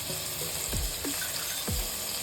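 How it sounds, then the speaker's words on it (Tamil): Vegetables sauté in a pan for Tirunelveli sodhi kulambu, with a steady close sizzle of frying and a few stirring scrapes and clunks over about two seconds. "வதக்கி வச்ச கத்திரிக்காய், உருளைக்கிழங்கு, கேரட் இதெல்லாம் போட்டு நல்லா வதக்கணும்"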